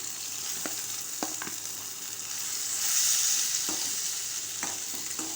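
Tomatoes and potatoes sautéing in a pan for aloo bhujiya, a steady bright sizzle that swells in the middle, with several soft knocks of a spoon stirring, close and without talk.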